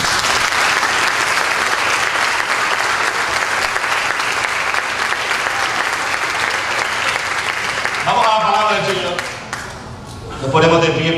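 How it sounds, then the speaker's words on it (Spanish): A church congregation claps steadily for God during a sermon, a dense sustained roar of applause for several seconds, then it thins as a voice speaks and singing or speech rises near the end. "Den un aplauso a Él."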